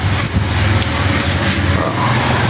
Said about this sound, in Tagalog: tingnan natin ang speed ng fan motor. So, full speed na siya.